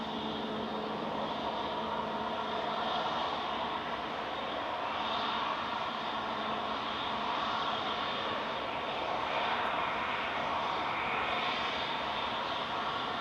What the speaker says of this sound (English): Helvetic operating for Swiss coming in with flight 380 from Zurich